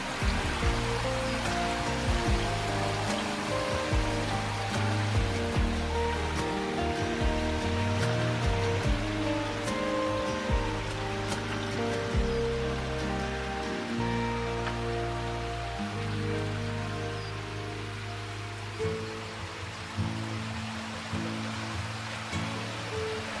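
Water of a stream running through a quiet village, a steady continuous rush and babble filling the whole stretch at an even, close level with no voices.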